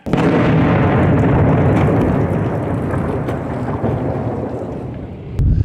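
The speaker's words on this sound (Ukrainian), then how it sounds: "Терористи продовжують гатити по Дебальцевому та його околицях із градів та артилерії." Grad rocket and artillery shelling near Debaltseve produces a loud, continuous roaring rumble with wind-buffeted rushing noise, sustained throughout with a fresh low burst at the end and no talk.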